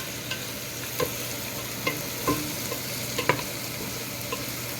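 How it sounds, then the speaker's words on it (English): A spoon scrapes and taps around a frying pan of simmering sauce over medium-low heat, with soft irregular knocks over a steady low sizzle; no voices. "I'm going to stir that"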